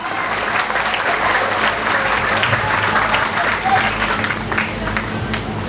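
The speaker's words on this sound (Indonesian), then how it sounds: "Tepuk tangannya kurang keras. Tepuk tangannya sama-sama lagi." Sustained, dense applause from a large audience at an Islamic school graduation celebration for middle school, high school and Quran memorization students, steady and loud throughout with crowd murmur beneath.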